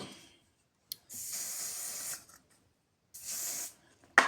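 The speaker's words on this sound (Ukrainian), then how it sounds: "зараз я буду його теж пшикати і буду духами" Perfume sprayed from a bottle in two separate hissing bursts, the first about a second long and the second shorter, each preceded by a small click of the nozzle, with silence between.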